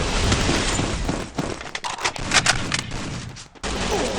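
Gunfire from a 4v4 shooter video game comes as rapid bursts and sharp cracks, loud and dense, with a short thinner stretch of scattered shots in the middle.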